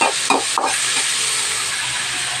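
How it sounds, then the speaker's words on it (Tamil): Loud, steady sizzling of chopped onions, tomatoes and curry leaves frying in hot oil, with a few scraping stirs at the start, close up and without talk. "2 வெங்காயம் பொடியாக நறுக்கியது, 2 தக்காளி, கொஞ்சம் கருவேப்பிலை, இதை நல்லா வதக்கிட்டாங்க"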